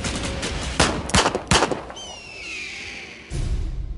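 A few sharp, loud .357 Magnum revolver gunshots crack in quick succession, followed by a lingering ringing tone and a low rumble.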